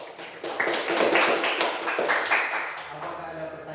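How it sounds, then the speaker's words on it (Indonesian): Classroom applause for a student group, a short burst of many hands clapping at close range that swells and then tapers off over a few seconds. "Tepuk tangan dulu untuk kelompok 2."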